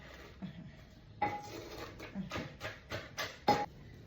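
A pestle pounding fresh shrimp papaya salad in a mortar, a series of sharp knocking hits spaced roughly every half second, fairly close and moderate in level, with faint clinks between.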